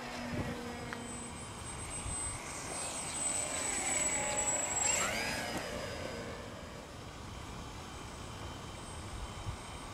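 A Parkzone F4U Corsair model airplane flies by in heavy wind, its electric motor and propeller whine rising and falling in pitch as it passes close, over a constant rumble of wind buffeting the microphone.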